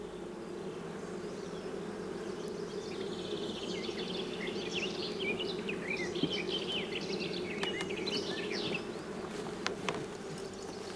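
Steady, dense buzzing of many honeybees in an open hive while a brood comb is lifted from the center, a continuous close hum with faint higher whines throughout and no talk.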